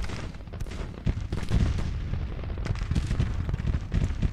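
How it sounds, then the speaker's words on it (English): Napoleon cannon batteries firing across a Civil War battlefield near Nashville in Grand Tactician, with a steady rumble of repeated booms, heavier blasts landing around the one-second mark and again through the middle, loud and continuous. "our second battery, which is Charles Smith's Napoleons, firing on them now"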